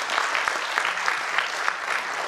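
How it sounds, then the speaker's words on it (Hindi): An audience at an evening talent show gives a singer steady, enthusiastic applause, close and continuous throughout. "एकदम जोरदार तालियां हो जाए पहले सर के लिए"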